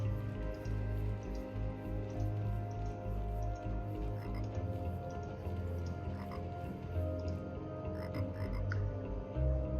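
Frog croaking in the video game Tower of Time, a small orange frog at the edge of a tower level, heard as steady low croaks over a dense, continuous game ambience for the full stretch.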